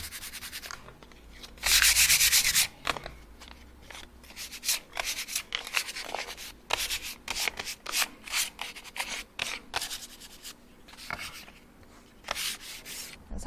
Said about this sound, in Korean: 나뭇결이 일어난 곳을 위주로 이렇게 사포로 결 정리를 한번 해줄게요